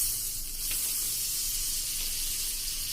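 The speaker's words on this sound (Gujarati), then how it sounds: "એના માટે મિત્રો મેં પેન લોઢી મૂકી દીધી છે અને એમાં આપણે 1 ચમચી જેવું બટર" A steady, bright hiss of butter sizzling in a hot pan on the stove for pav bhaji buns, constant and close with no pauses or voices.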